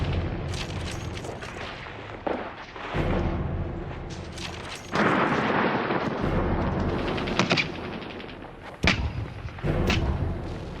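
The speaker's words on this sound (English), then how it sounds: "mortar, sniper, and machine gun fire" WW2 mortar, sniper and machine gun fire in the Pacific, with heavy booms, sharp cracks and bursts of rapid fire rolling over a constant battlefield rumble, loud and dense.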